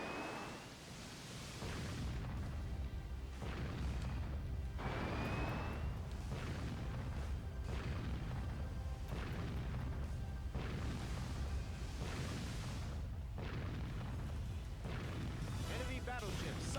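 Repeated deep booms and bursts from a sinking battleship in the naval combat game Warship Gunner 2, rolling continuously over a dense bed of in-game battle noise with no pauses.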